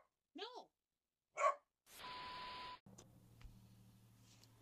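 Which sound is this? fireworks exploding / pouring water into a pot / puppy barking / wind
puppy barking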